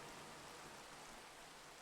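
Steady rain hiss with soft patter in the video game All the Mods 7, a constant wash of noise at low level with no voices.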